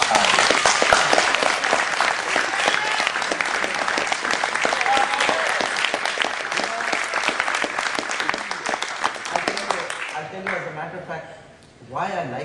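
Sustained audience applause at a spiritual talk by yoga teacher Yogiraj Sat Gurunath Siddhanath, a dense, steady clapping that fills the room for about ten seconds before fading, with a brief burst returning at the end.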